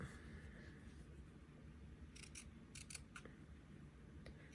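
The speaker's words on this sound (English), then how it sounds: "I'm not using the best scissors." Scissors snip small pieces of fabric in a quick series of faint, crisp clicks, quiet and close, with a few separate cuts clustered together.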